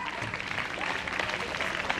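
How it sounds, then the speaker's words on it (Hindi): Children clap for a man finishing a juice-drinking contest with a straw at a golden jubilee reunion, a dense patter of applause running steadily through the brief moment with lively crowd noise. "तालियां सर का खत्म हो गया।"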